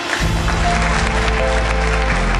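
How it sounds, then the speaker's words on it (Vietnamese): Wedding guests at a countryside wedding in Kỳ Tân, Quan Hóa, Thanh Hóa applaud in a dense, continuous clatter of clapping over steady background music. "Hãy vang lên một tràng pháo vỗ tay thật lớn của toàn thể quý vị nữa để chúc mừng"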